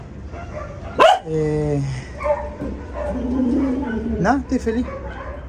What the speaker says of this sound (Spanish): hay mucho perro ladrando